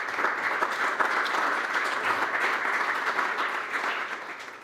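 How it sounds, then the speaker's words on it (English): A conference audience at a panel discussion on European energy security claps for a former Austrian chancellor: a moderate, even roar of many hands lasting several seconds, with a slight fade at the end. "want to offer a round of applause for the former Chancellor of Austria"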